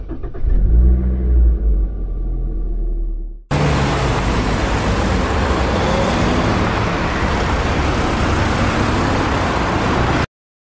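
A car pulls away after a brief low rumble, then its engine and road noise swell into a loud, steady roar that lasts several seconds before cutting off abruptly.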